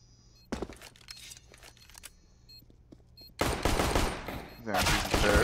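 Gunshots in a Counter-Strike: Global Offensive match on the Mirage map, scattered sharp single shots and short clicks at first, then two loud sustained bursts of rapid fire near the end, close and punchy.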